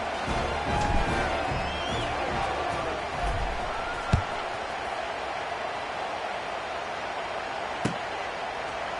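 A stadium crowd in the NCAA 26 college football video game cheers as a steady, broad roar in the background, with a few sharp thuds and faint whoops, but no clear talking.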